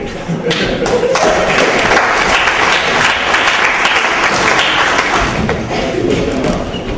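A theater audience applauds loudly and continuously, dense clapping with some thumps and cheering mixed in, sustained for several seconds.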